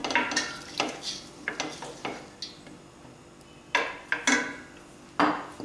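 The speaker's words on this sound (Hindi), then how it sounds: "अब हमने ये चिकन इसके अंदर डाल देंगे, 1/2 kg चिकन है हमारी" Half a kilo of chicken going into a pan of garlic and oil, with scattered clatters and scrapes of a utensil against the pan and a soft sizzle underneath, in bursts separated by brief lulls.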